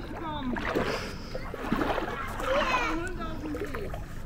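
Splashing and swishing as someone wades through water at a campsite in the Heldense Bossen, soft rhythmic sloshes under voices, with someone speaking nearby.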